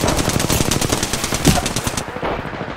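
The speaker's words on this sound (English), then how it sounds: "I am taking fire, friends. Reloading. Getting shot at." Rapid automatic gunfire in the video game Apex Legends, a fast rhythmic burst of close shots that cuts off near the end, leaving a brief quieter tail.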